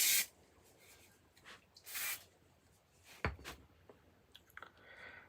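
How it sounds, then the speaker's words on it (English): Spray glue hisses from an aerosol can in a few short bursts, near and fairly quiet, separated by soft rubbing and handling noises. "Little bit of spray glue."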